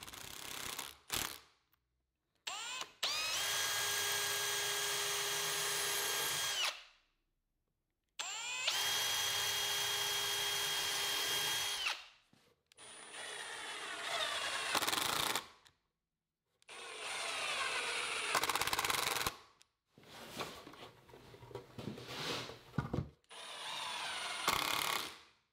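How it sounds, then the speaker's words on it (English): Power drill driving 1 5/8 inch finish screws to assemble wooden drawers, several separate bursts of motor whine and grinding with short pauses between them, loud and close. "Next, I'll use 1 5/8 finish screws to build the drawers."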